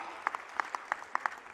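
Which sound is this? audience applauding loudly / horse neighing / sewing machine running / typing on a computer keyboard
audience applauding loudly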